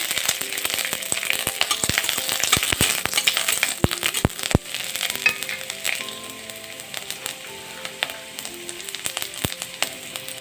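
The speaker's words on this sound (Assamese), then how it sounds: "কেঁচা জলকীয়া আৰু শুকান জলকীয়াখিনি দি অকণমান ভাজি লৈছোঁ।" Chopped garlic, ginger, and fresh and dried chillies fry in oil in a pan, giving a steady crackling sizzle studded with sharp pops and clicks from utensils, close and continuous with no talking.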